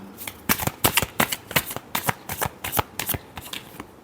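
Tarot cards being shuffled in a rapid series of crisp, riffling bursts, fairly close and steady in rhythm, with no talking over them.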